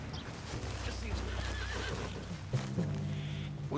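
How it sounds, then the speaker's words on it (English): A horse whinnies and neighs in Red Dead Redemption 2 over a steady low rumble of game ambience, with faint hoof clip-clops and some background voices. "What's wrong with this horse?"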